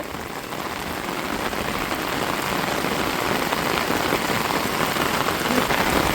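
Heavy rain pours steadily, a dense, even hiss of drops hitting surfaces, continuous and close with no voices.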